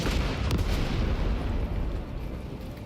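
A tank cannon firing in the video game Outer Worlds 2, a heavy booming blast with a deep rumbling tail that rolls on for a few seconds, loud and close, with no talk over it.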